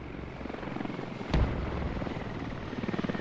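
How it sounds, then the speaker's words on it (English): A Black Hawk helicopter arrives in a military video game, its steady rotor thump pulsing close and loud, with a sharp thud partway through and the blade chop growing stronger toward the end. "Blackhawk coming in for a resupply over the point here."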